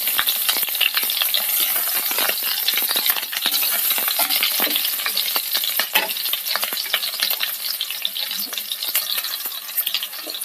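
Chopped green chillies and curry leaves crackle and spit in hot coconut oil as they are stirred. Sharp pops burst irregularly over a constant loud close sizzle, with no voices.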